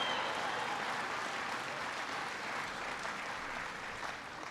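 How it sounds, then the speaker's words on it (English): Steady applause from an audience gathered inside a new stamping plant, a dense even wash of clapping that holds for several seconds and thins slightly toward the end, with no voices on top. "Come on, give Todd a big round of applause."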